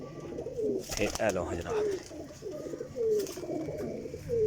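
Teddy pigeons in a loft cooing in repeated soft rolling calls, a handful of coos spaced through the clip beneath a man's conversational speech close by.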